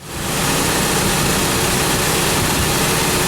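A Toyota 22RE four-cylinder engine with a newly installed camshaft idles, starting up and settling into a loud, steady, smooth hum that holds without a break.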